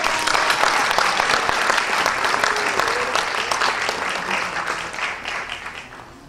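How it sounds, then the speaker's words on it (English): Audience applause at a presentation ceremony during a Korean cultural performance at a college, a burst of clapping that starts full and gradually tapers off over several seconds. "please welcome them with a big round of applause"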